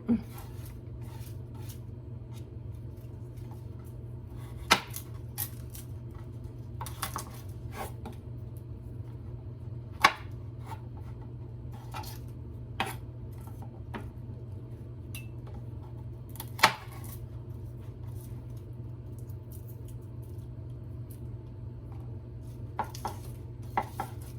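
Tomatoes being chopped with a rather dull kitchen knife for garden marinara sauce: sparse, irregular knife thuds against a board, several seconds apart, over a steady low room hum.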